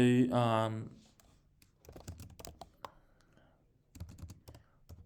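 Code is typed on a computer keyboard in quick, uneven bursts of close clicking keys, after a brief spoken word at the start.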